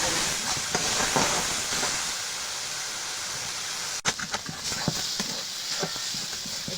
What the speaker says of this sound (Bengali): এভাবে নাড়াচাড়া করে অনেক সময় ভেজে নিতে হবে